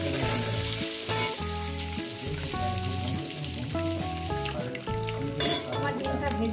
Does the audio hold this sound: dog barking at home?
no